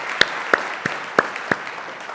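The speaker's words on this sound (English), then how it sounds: "Can we give you a round of applause, please?" Sparse, isolated claps from an audience at a technology conference, five or six sharp separate hand claps spaced about a third of a second apart in a quiet room.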